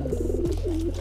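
A pigeon coos inside a loft, close and clear, a low warbling coo with a pulsing rhythm that dips briefly and then rises into a smooth sustained note over about a second.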